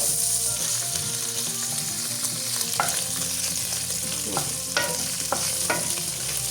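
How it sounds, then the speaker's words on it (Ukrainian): Pork fat (salo) sizzles and spits steadily in a hot pan as it renders, with occasional sharp pops and crackles. "Смажуємо наше сальце."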